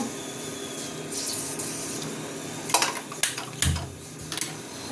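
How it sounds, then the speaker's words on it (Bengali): A metal wok is set down on a gas stove and the burner is lit, with a quiet room hiss broken by several sharp metallic clanks and clicks close by in the second half. Nobody speaks. "কড়াটা বসিয়ে দেবো, গ্যাসটা জ্বালিয়ে দেবো"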